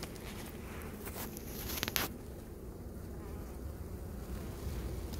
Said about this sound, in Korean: 벌이 아주 월동을 잘 났습니다